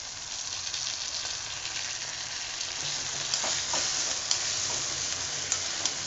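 Fried paneer sizzles steadily in a hot pan as soy sauce goes in for paneer chilli, a loud, continuous crackling hiss with a few sharper pops, no talking.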